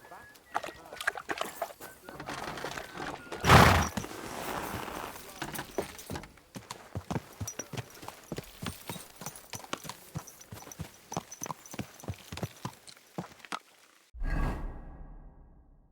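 Steady clip-clop of horse hooves trotting close by in Kingdom Come: Deliverance II, with a loud whooshing swish early on and rustling movement throughout.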